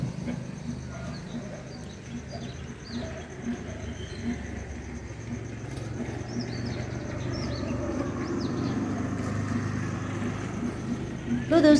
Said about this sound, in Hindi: पंछियों की चहकने की आवाज़ आ रही थी और देखिए पंछी बोल रहे हैं।